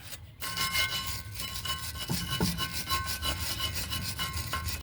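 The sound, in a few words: wire brush scrubbing grooves of a brake caliper bracket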